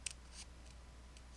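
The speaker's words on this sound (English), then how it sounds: "Take some scissors and just cut" Scissors snipping excess paper from a handmade mason jar card, a few quick crisp cuts close by over a steady low hum.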